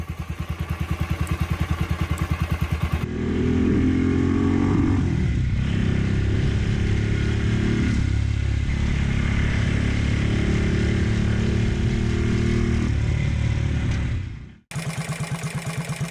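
A classic 1950s–60s Italian 250cc motorcycle engine runs close and loud, its exhaust note rising and falling across revs in a rough, throbbing drone, bracketed by brief different sounds at start and end.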